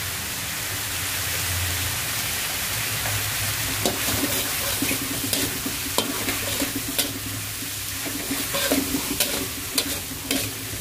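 Spice paste sautéing in a pan, a steady sizzle of frying with repeated scraping and stirring clatters from a utensil growing more frequent toward the end, close and fairly loud, with no talking.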